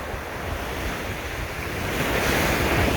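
Ocean waves break on the shore in a continuous, loud surf wash with heavy wind buffeting the microphone and a gradual swell toward the end, with no voices.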